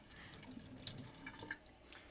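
Cold tap water runs quietly into a bowl of pomegranate seeds, a soft steady trickle with a few brighter splashes and drips.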